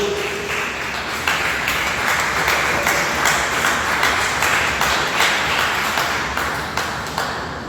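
A church congregation at a worship service claps together in sustained applause, a loud, full room of hands beating in a fairly regular rhythm for several seconds before easing slightly at the end.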